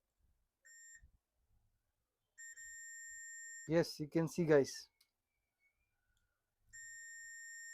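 Steady high electronic continuity beeps from a multimeter testing a MOSFET on a board with no-power fault sound in several long stretches, broken by short gaps, with a brief burst of someone talking in the middle.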